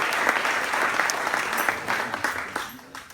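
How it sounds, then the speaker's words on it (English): An audience claps steadily, a dense wash of applause that holds for a few seconds and then starts to taper off. "give him a warm applause"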